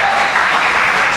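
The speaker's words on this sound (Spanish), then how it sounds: "Yo me daría un aplauso, les doy un aplauso." A church congregation claps loudly and continuously during a sermon, a dense, even burst of applause from many hands.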